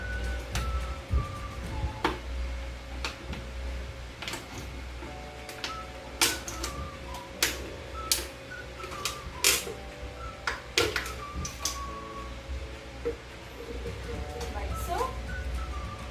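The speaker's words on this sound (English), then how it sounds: "you're going to cut around the top of that bottle" Scissors make repeated sharp clicking snips around the top of a stiff plastic bottle, irregular and close by, with a faint voice in the background.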